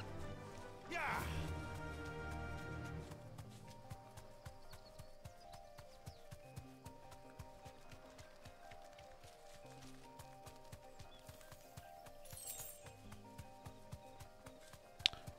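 A horse's hooves clop in a loose, uneven rhythm nearby, mixed with scattered knocks and rustle, while someone talks lightly over part of it.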